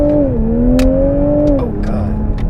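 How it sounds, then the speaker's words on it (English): 2020 Toyota Supra brake-torque launch at full throttle, a loud close engine drone that holds, dips briefly as it shifts, then settles lower, heard from inside the car. "so I'm gonna do a brake torque and I'm gonna floor it."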